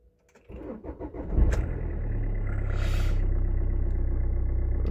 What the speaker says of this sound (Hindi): सेल्फ ले लिया, एक सेल्फ में स्टार्ट हो गई है रात भर की खड़ी खड़ी।